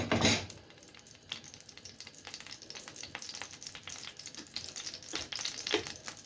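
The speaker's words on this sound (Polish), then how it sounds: "mam trochę wilgotną patelnię, dlatego tak strzela" Zucchini fritter batter fries in oil in a damp frying pan, crackling and spitting with sharp irregular pops over a continuous sizzle, close by and lively, with no voices.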